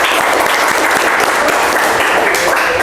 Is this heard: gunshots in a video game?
no